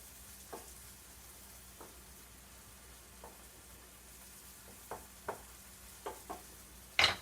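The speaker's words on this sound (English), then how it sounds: "make sure this onion's kind of sauteing on here" Onion sautéing in a pan makes a soft, steady sizzle, broken by scattered scrapes and taps from stirring that grow more frequent toward the end, ending in a louder clatter.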